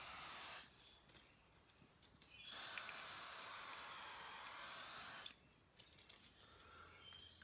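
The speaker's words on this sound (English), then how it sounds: "Finally, we just lubricate the top spring with a little bit of that silicone spray" Silicone lubricant sprays from an aerosol can onto the top spring of a garage door, two steady hissing bursts of about two and three seconds each, close and loud, separated by quiet.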